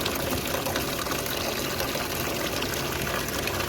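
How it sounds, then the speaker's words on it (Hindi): Plain water gushing steadily into a bucket on a goat farm, a continuous rushing, splashing pour close by with no talking. "इसी तरह सादे पानी की भर लेंगे।"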